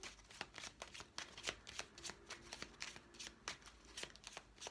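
A deck of tarot or oracle cards is shuffled for a card reading, giving a steady run of soft, close riffling flicks with no one talking.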